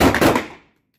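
A single close pistol shot at shooting practice cracks loudly, then its echo fades quickly to silence within about half a second.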